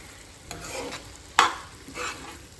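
Onions and green chillies frying in a pan are stirred, with a steady sizzle under a few scraping strokes, one sharper louder scrape partway through, and no talking.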